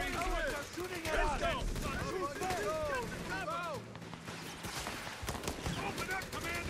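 Gunfire rattles in Company of Heroes 3, a World War II Italian campaign battle, with bursts and single shots cracking throughout while soldiers shout commands over the fighting.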